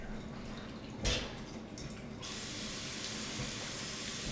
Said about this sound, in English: While we have the kale washing